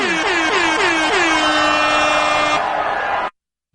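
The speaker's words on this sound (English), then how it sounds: "that air horn is like, whoa" Several loud air horn blasts at a political rally, the first few short and rising, then one long sustained honk that cuts off abruptly, close and piercing.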